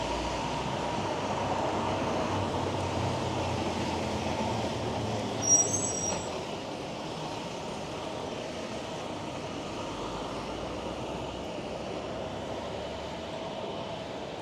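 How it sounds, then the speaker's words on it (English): A 505 Dundas streetcar passes on a downtown Toronto street near Yonge and Shuter, a steady low rumble of wheels and traffic with a brief bell-like ring partway through. "505 Dundas streetcar."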